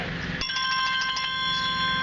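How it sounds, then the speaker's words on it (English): A phone rings with a bright electronic trill, a rapid pulsing tone that starts abruptly and keeps going, close and clear. "Hey, my phone's ringing."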